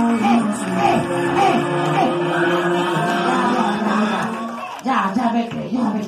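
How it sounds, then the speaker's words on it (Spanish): Party audience cheering, whooping and shouting for a clown at a child's birthday party, a loud continuous crowd roar with voices mixed throughout and a brief dip near the end. "¡El aplauso para él!"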